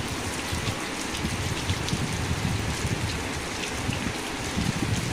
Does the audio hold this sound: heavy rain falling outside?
yes